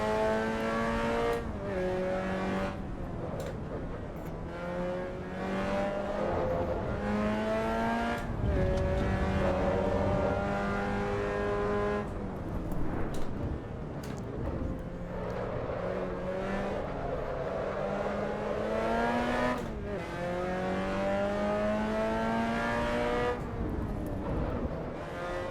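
A race car laps Suzuka in the Assetto Corsa Evo video game, its engine revving up and down in rising pitch sweeps through gear changes and braking, loud and continuous throughout.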